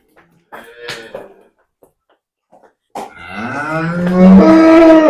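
A freshly calved cow at a dairy farm gives one long, loud, close moo that swells toward the end, after a few faint knocks and rustles.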